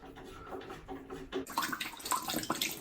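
Dirty water draining out of central heating pipework during boiler installation, a faint splashing trickle that grows into a steadier, brighter gush partway through, with no voices.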